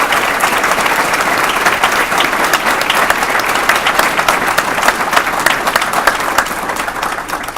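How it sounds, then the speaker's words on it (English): Steady, dense applause from a room of attendees at a chamber reception for Nikki Haley, loud and sustained throughout with a faint crowd murmur beneath. "let's give her another round of applause, please"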